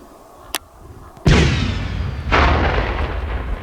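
Police bomb technicians detonate a submunition outdoors: a sharp crack, then a heavy boom with a rolling, rumbling tail and a second surge of blast noise.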